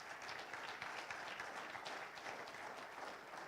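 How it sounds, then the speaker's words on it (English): Audience applause at a Kwibuka30 remembrance event, with steady, dense clapping from a crowd that runs unbroken and fairly faint from start to finish. "With a round of applause, we invite Dr. Odoti to join."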